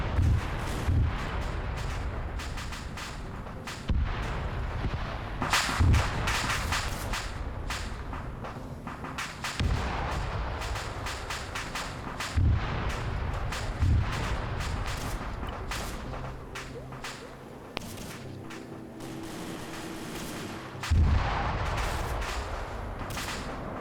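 Artillery fire in a military video game: a long run of heavy, irregular booms and sharp cracks, some near and loud, others softer, spread over a constant rumbling battle backdrop.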